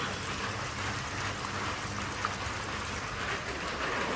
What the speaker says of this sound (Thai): ฝนตกบรรยากาศดีครับวันนี้